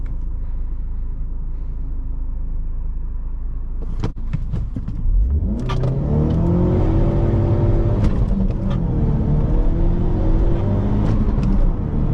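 After a few seconds of idle rumble, a 2017 Ford Focus RS engine roars up hard and revs through rising gear pulls during a zero-to-sixty run, loud and close, with a brief shift dip.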